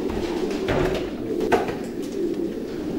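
Pigeons coo steadily in a stud loft, a soft continuous murmur of overlapping low calls with a brief sharper flutter or knock midway, close and moderately loud throughout.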